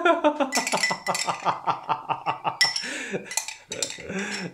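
A utensil scraping the last crushed tomatoes out of a container while cooking chorba, quick metallic clinks and scrapes in a rhythmic series, close, under lively talk and laughter.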